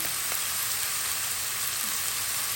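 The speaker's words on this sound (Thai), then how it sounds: "เราเอาหมูมาย่างในกระทะก่อน" Pork grills in a pan for Thai nam tok moo, a steady, loud hiss and sizzle filling the clip with a few faint pops and no voices.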